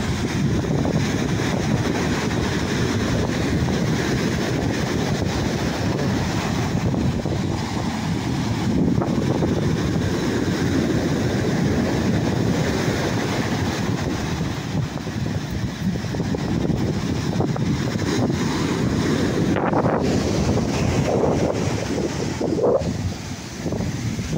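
Wind roaring steadily across a microphone at the seaside, with sea waves washing beneath it as a continuous loud rush that lasts the whole stretch, with no voices.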